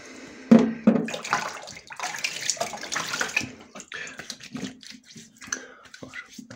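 Running tap water splashes as a face is washed during a wet shave, with close, irregular splashing and cupped-hand scoops that grow more sporadic toward the end.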